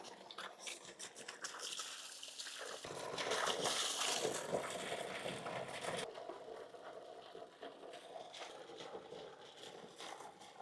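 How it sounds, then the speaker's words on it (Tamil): Cut cassava pieces are swished and rubbed in water, making soft sloshing and dripping sounds with a louder splashing burst in the middle. The clip is quiet and close, with no talking. "இப்போ மரவள்ளி கிழங்க நல்லா கழுவி எடுத்தாச்சு"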